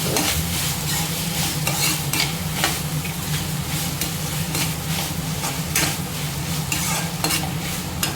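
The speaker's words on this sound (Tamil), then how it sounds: "காய் பார்த்திங்கன்னா ஒரு நிமிஷம் நல்லா வதங்கிக்கலாம்" Vegetables sauté in a hot pan with turmeric and salt, giving a continuous sizzle while a utensil scrapes and stirs in repeated strokes, close and steady.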